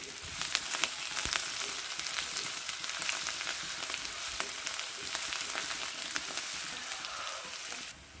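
Curry leaves and green chillies fry in hot oil for a flat bean pakodi curry, giving a steady close sizzle with scattered crackles and light stirring scrapes throughout.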